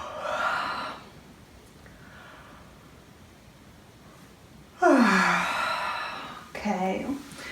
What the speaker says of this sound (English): Start with a little yawn to relax your upper body.